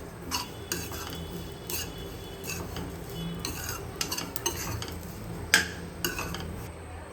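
Coconut, sesame seeds and garlic being sautéed in a pan, with a faint low sizzle under intermittent sharp clinks and scrapes of a spoon against the metal.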